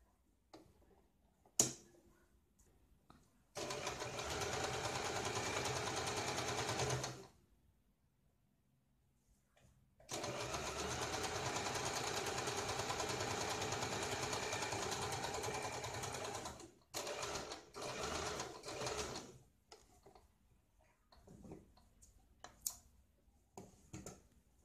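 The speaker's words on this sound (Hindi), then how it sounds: "फोल्ड करके इसके ऊपर हम सिलाई लगाते हैं" A sewing machine stitches a blouse lining in two long, steady whirring runs, then a series of shorter stop-start bursts, with quiet gaps and light clicks between them.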